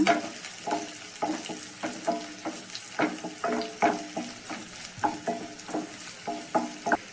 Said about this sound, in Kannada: ಶುಂಠಿನ ಕಟ್ ಮಾಡಿ ಇಟ್ಕೊಂಡಿದ್ದೀನಿ ನಾನು ಅದನ್ನು ಇವಾಗ ಸೇರಿಸ್ಕೊತಾ ಇದ್ದೀನಿ ಅದನ್ನು ಸೇರಿಸ್ಕೊಂಡು ಫ್ರೈ ಮಾಡ್ಕೊಳ್ಳೋಣ